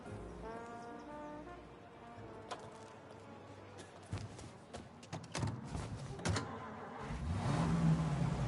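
A car drives in the video game Mafia: Definitive Edition, its steady engine hum joined early by a horn-like tonal drone, then scattered clicks and knocks before the engine swells louder near the end.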